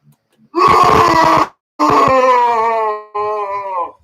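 Zombie groan preset from a handheld sound-effect gadget: three loud, drawn-out synthetic moaning groans with a rough, buzzy tone, separated by short silences and heard alone without talk.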